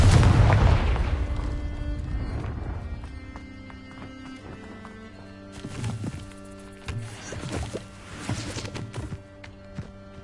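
A Confringo blasting spell goes off in the video game Hogwarts Legacy with a booming burst at the start, followed by softer game sounds and scattered thuds fading to quieter ambience.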